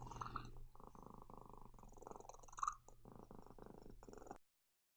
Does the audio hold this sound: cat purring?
yes